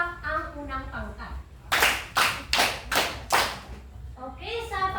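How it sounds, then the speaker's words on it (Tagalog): Five loud, evenly spaced claps in unison from a classroom audience for the first group at a TLE demonstration, with a voice speaking before and after the claps. "bigyan natin ng 5 palakpak ang unang pangkat"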